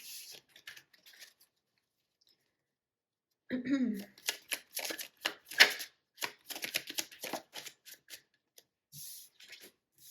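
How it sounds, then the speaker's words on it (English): A small pink deck of oracle cards is shuffled: after a quiet stretch come close, crisp bursts of riffling and flicking cards, irregular and papery. "I'm going to start by pulling a card for the energy using this little pink deck"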